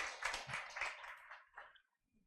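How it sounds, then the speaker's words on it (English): A short round of clapping from a lecture audience, moderately near, rising briefly and then tapering off into near silence. "And a round of applause for him posthumously"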